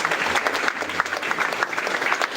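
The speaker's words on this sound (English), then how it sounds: "One more round of applause, please," Audience applause following a poem recital at a Bitcoin event, a steady dense wash of clapping that holds throughout without pause.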